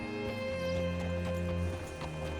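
A horse's hooves clip-clop at a walk in the Western video game Red Dead Redemption 2, soft, steady footfalls under a constant low drone of game ambience.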